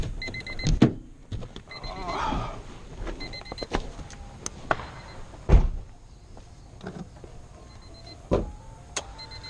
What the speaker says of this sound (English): I'm gonna open my trunk.